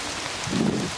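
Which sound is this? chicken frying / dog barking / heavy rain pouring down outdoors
heavy rain pouring down outdoors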